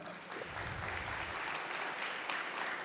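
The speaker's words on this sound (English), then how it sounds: "A big round of applause for them." Audience applause at a chartered accountants' convocation ceremony, a steady broad wash of many hands clapping throughout, moderately distant and sustained without breaks.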